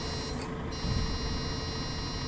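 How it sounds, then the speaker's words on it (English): Steering protection buzzer of a Solaris Urbino 18 bus in OMSI 2, a continuous high-pitched electronic tone sounding steadily over low engine rumble, with a brief dip early on. "There we go, you can hear the buzzer."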